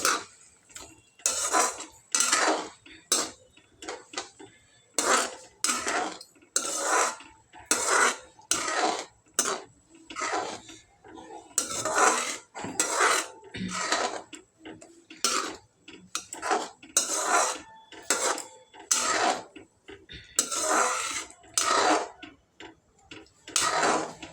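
Repeated scraping and clinking as vermicelli is stirred with mixed vegetables in a metal pot, in regular bursts roughly once a second, close and fairly loud.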